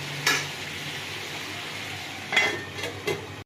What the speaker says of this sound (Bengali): মশলাটা পুড়ে নেবো। দিয়ে ভালো করে কষে নেবো।